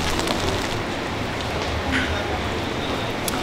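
Steady rain hisses on a Tokyo street at night, close and continuous, with a faint voice briefly present under the downpour.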